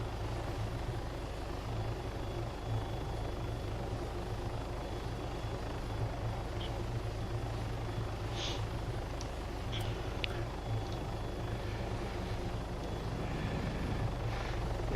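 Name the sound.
helicopter flying in a Vietnam War video game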